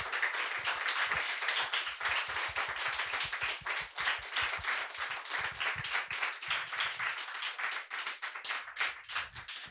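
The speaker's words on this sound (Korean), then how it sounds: "스태프들에게도 한번 마음으로 큰 박수 보내주시면" A house concert audience applauds the production crew, a dense, steady round of many hands clapping close and loud throughout, with no talking over it.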